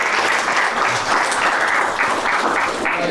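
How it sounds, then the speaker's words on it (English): Dense audience applause at a startup demo day in Belgrade, a loud, steady wash of many hands clapping with no voices over it. "Round of applause,"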